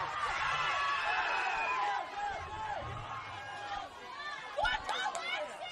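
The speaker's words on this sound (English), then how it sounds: "This Gladesville Ravens crowd are on fire." A Gladesville Ravens crowd at a women's NPL NSW football match makes a loud, continuous roar of cheering and chatter that swells and dips slightly, with a brief burst of shouts near the end.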